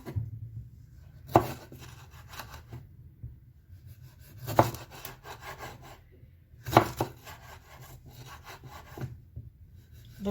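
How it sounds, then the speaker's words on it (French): A knife cuts fresh chili pepper on a cutting board for a banh mi, with quiet scraping strokes and three sharper chops spaced a few seconds apart, close and soft. "Ensuite, on va découper le piment frais."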